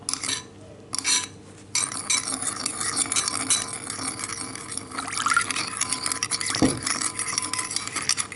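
A spoon stirs salt and pepper seasoning for a tomato mozzarella salad, giving close scraping and light clinks against a bowl amid small shuffling noises.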